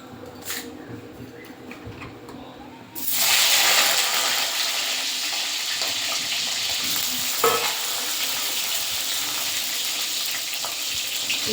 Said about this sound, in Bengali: এই তেলে বেগুনটা ভেজে নেব।